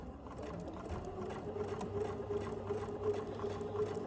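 A sewing machine stitches a scant quarter-inch seam for a quilt block, giving a steady, soft mechanical whir with a faint rhythmic patter, heard alone at low level.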